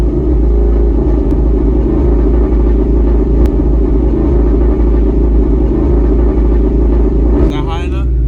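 A Ford Mustang set up for racing idles with a deep, loud, steady engine rumble as the driver revs it gently while slipping the manual clutch, ending in a brief rattling shift near the close.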